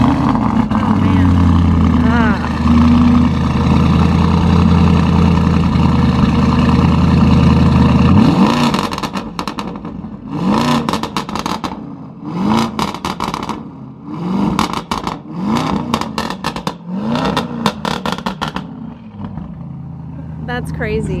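BMW M1000RR superbike with carbon parts and a lightweight chain and sprocket setup, its engine idling loudly then blipped through a run of sharp, repeated throttle revs, heard up close.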